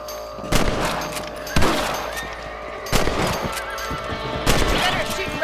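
Rifle shots in the Western video game Red Dead Redemption, fired at rabbits on a ranch: four sharp loud cracks spaced about a second or more apart over steady outdoor game ambience, with faint horse noises.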